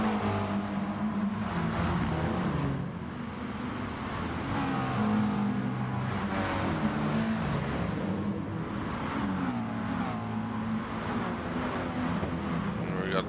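Racing cars in a video game race roaring down a straight, a continuous dense engine drone with shifting pitch as cars jostle for position, steady and moderately loud throughout.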